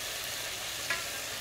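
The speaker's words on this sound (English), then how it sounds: "the garlic and ginger sauteing in the ghee" Garlic and ginger sautéing in ghee with green chili paste give a steady, close sizzle with a brief stirring scrape just before the end, and no one speaks.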